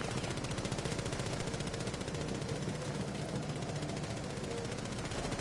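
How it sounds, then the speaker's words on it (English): Rapid automatic gunfire from a teammate in Rainbow Six Siege rattles continuously in dense bursts, loud and unbroken for several seconds. "Yeah, gunshots. That's just Ben shooting."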